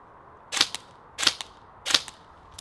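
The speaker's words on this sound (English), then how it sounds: "we're going to transition over to our pistol and shoot 4 times again" Three airsoft pistol shots fired at a target at a slow, even pace, each a sharp snap with a short trailing click, fairly close and alone.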